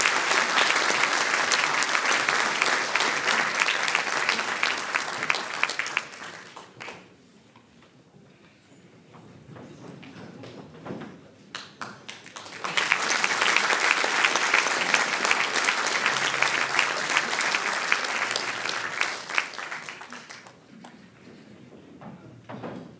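Concert audience applauding the conductor at a centenary concert, a long dense burst of clapping that fades into a quieter lull with light rustling, then swells again into full, sustained applause before tapering off.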